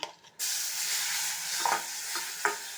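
Nuts fry in ghee in a pan for carrot halwa, hissing in a bright continuous sizzle that starts abruptly after a brief quiet moment, with a few light scrapes of stirring.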